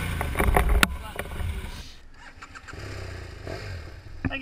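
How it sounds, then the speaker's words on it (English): A Super 10 motorcycle on an off-road vintage rally trail revs hard with plenty of throttle in a loud opening burst, then its engine drops back to a lower, rougher drone. "And with typical flair, plenty of throttle was used."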